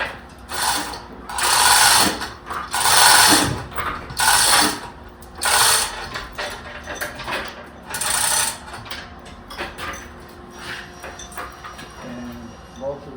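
A heavy, bulky metal chain handled on a milling machine during repair, rattling and clanking in repeated loud bursts with ratchety metallic links sliding, close up, with someone talking intermittently over it.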